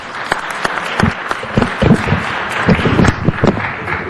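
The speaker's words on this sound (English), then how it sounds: "One round of applause," An audience applauds in city council chambers at City Hall, a few seconds of loud, close clapping with individual sharp hand claps standing out from the crowd.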